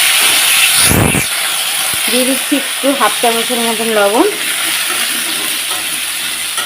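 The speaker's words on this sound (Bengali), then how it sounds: "তেলটা বেশ গরম হয়ে আছে এখন কোয়াশ আর আলুটাকে ভেজে নেব" Chunks of squash and potato fry in hot oil that was just used for frying fish, giving a steady, close, loud sizzle that runs the whole time while a voice speaks briefly over the middle.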